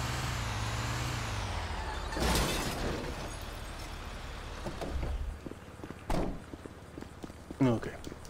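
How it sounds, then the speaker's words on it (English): A garbage truck in Grand Theft Auto V rumbles nearby, then lets out a loud hissing burst from its air brakes, followed by footsteps and clattering thumps over the engine drone. "Sanitation truck's there now, so don't you bother."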